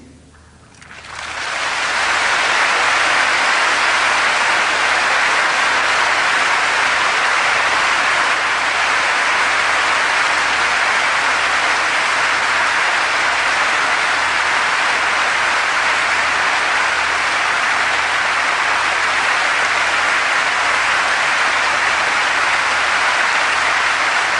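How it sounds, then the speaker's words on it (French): An audience breaks into applause that swells within two seconds into a loud, dense, sustained wash of clapping and holds steady for over twenty seconds. "tous ces applaudissements à toi Seigneur"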